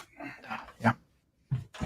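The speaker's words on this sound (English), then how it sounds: "Stop barking at fucking coyote." A nearby dog gives short, rough barks and yelps at a coyote outdoors, a quick cluster of three followed by a brief pause and two more, moderately loud.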